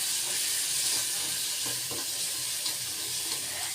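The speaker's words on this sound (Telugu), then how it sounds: "ఇప్పుడు దీన్ని నేను బాగా మిక్స్ చేసుకుంటున్నాను." Egg masala seasoned with chili powder and coriander powder being mixed in a hot pan, giving a steady loud sizzle with soft scraping stirs throughout and no talking.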